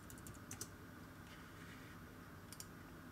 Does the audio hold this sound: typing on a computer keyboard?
yes